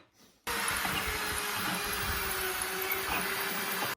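Power drill boring into the side of a wooden nightstand, a steady continuous motor whine with grinding that begins abruptly, runs loud and unbroken for a few seconds, then stops sharply. No speech.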